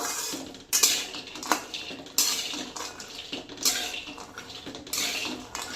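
Walnuts and pistachios dry-roasting in a pan over low heat for dry-fruit laddus, with repeated scraping and clattering of a spoon against the metal pan in bursts, close and moderately loud, no talk.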